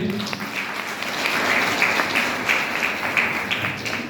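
Audience applause at a Hindi-language seminar on illness, a steady wash of many hands clapping that swells and holds for about four seconds, fairly close and with no talk over it.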